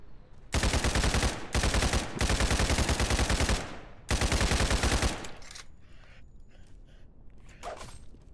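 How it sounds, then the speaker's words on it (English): G36 rifle fire in a video game roars out in three long, loud, continuous automatic bursts, very close, then gives way to quieter scattered sounds. "G36. Oh, let's do some gun testing."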